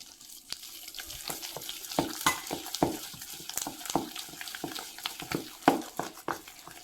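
Wet, squelching slaps and sticky stirring as gram flour dough for mirchi is mixed by hand in a round motion, coming in quick irregular bursts close up.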